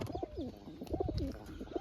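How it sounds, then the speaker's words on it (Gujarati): Pigeons perched overhead coo in repeated soft, throaty phrases, three clear bursts spaced about a second apart, close and moderately loud over faint background noise. "બાકી જો કબૂતર હંધાય ઉપર બેઠા છે અત્યારમાં"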